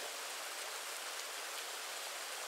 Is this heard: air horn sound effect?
no